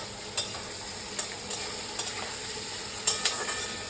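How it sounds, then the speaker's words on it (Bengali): Potatoes frying in a pan and being stirred with a utensil, giving a steady low sizzle broken by several short scraping strokes, close by with no talking. "আলুটা একটু নাড়াচাড়া করে নিলাম অলরেডি।"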